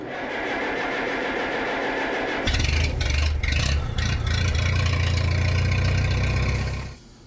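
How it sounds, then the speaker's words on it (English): A tractor engine starts after a stretch of steady background noise, then idles with a loud, steady low throbbing rumble for several seconds before cutting off abruptly near the end, close by. "I'm gonna get the tractor out."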